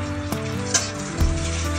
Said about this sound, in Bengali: এবার কড়াইতে পেঁয়াজ দিয়ে দিলাম